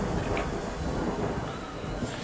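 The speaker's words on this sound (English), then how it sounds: "Because it's raining." Steady rain in a Death Stranding cutscene, a dense, even wash of falling water with a low rumbling undertone, moderately loud and continuous with no voices.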